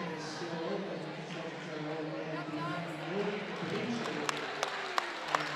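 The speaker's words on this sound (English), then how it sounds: "she's giving an ovation from the South fans as she comes off" Fans applauding at a high school girls basketball game as a player comes off the court, a steady roar of clapping from the crowd under ongoing commentary, with a few sharp squeaks near the end.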